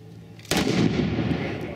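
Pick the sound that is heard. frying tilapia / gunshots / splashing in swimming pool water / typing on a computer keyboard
gunshots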